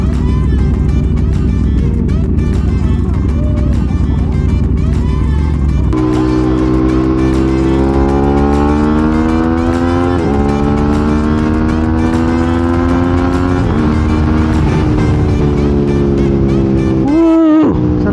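Sport motorcycles, an Aprilia RS660 and a Honda CBR600RR, ride along a Dana Point beach route, with steady engine drone that rises through climbing revs and gear changes, loud and continuous, with a brief burst near the end.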